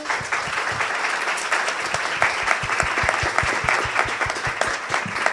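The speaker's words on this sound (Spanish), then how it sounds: "Les pido un aplauso para ellos." An audience claps steadily for several seconds, a dense patter of many hands with no voices over it.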